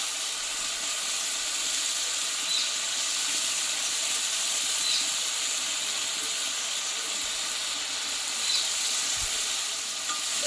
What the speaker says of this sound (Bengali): ডালটাকে এবার মশলার সঙ্গে কিছুক্ষণ আমি ভেজে নেবো একটু